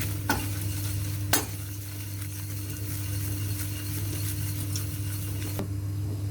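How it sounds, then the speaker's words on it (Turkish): Cornmeal being stirred and roasted in a pan for muhlama, a steady scraping stir with faint sizzling, a couple of sharper utensil knocks near the start, close and moderately loud with no talking. "Evet suyumuzu karıştırıyoruz."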